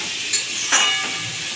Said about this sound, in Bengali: ভালো করে ভেজে নেবো আলু আর পেঁয়াজটাকে